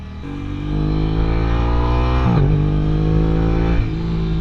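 An Aprilia RS 660 motorcycle accelerating hard, its engine climbing steadily in pitch with a loud, buzzy note, then a quick quickshifter upshift with a brief stutter before pulling again, close and dominant.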